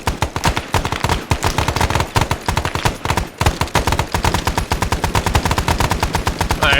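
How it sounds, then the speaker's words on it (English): Rapid bursts of gunfire shot into the air during military cavalry training, loud, close and nearly continuous across the whole stretch, with sharp repeated cracks and no talking. "all of you guys shoot your guns up in the air"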